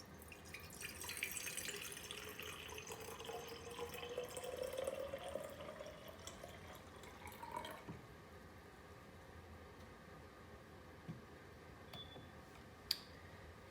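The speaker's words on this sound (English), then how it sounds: "We're going to go ahead and pour the water in." Water is poured into a flower vase, its pitch rising steadily as the vase fills over several seconds. Quiet room sounds and a few small clinks follow.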